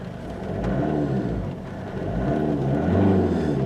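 A 2008 Vauxhall Astra H 1.7 CDTI diesel engine idles with a low rumble, then revs up twice in rising surges, loud and close, with no talking.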